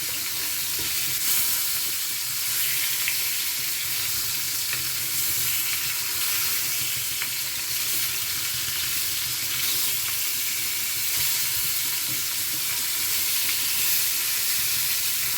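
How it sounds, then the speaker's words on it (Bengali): Flipped fish pieces frying in hot oil, a dense continuous sizzle heard up close and steady from start to finish, with no voices. "মাছগুলোকে উল্টে দিচ্ছি"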